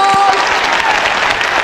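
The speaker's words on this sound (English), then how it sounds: "Give her a round of applause." Audience applause for a woman during a live stage mind-reading show, a dense steady clapping wash throughout with voices talking over it.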